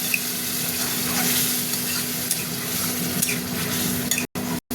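Water goes into a pan of sizzling spice masala, giving a dense, steady hiss and crackle with a few soft utensil touches, close by, cut off briefly at the end.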